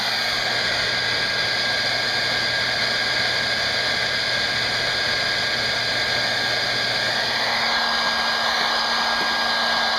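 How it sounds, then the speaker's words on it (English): A hair dryer blows steadily on a wet-on-wet watercolor fog painting, a constant close whooshing roar with a slight pitch change partway through. "Now take the dryer."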